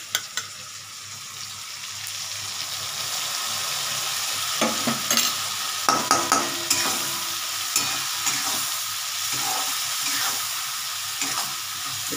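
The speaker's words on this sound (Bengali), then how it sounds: "এই দেখো মশলাটা যে পেস্ট করে রাখলাম, এই মশলাটা আমি এবার এখানে দিয়ে দিচ্ছি।" Spice paste for a prawn curry with potato, cauliflower, pumpkin and capsicum sizzles steadily in a pan, broken by repeated scraping and tapping as a spoon stirs it, with no talking.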